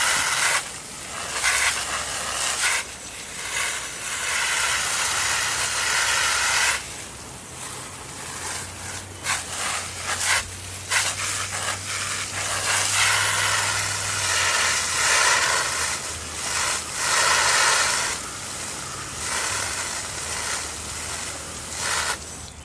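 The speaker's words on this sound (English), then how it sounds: "let me go ahead and hit this with the garden hose now and rinse her off" Garden hose water spraying over a car engine to rinse off degreaser, a steady, close hiss that surges and breaks in bursts over a low background hum.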